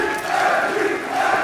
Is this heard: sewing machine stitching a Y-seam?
no